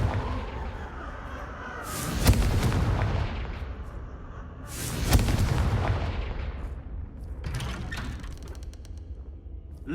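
Explosive spell blasts in the video game Hogwarts Legacy: two loud booming bursts a few seconds apart, each with a sharp crack and a rumbling tail, followed by a fainter crackling burst, with no talk.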